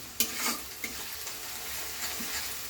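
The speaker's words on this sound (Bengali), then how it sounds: "রসুনটা দিয়ে ভালো করে নাড়িয়ে নিলাম" Garlic paste fries in a pan as it is stirred, giving a quiet, steady sizzle broken by a few light scrapes and taps of the spoon.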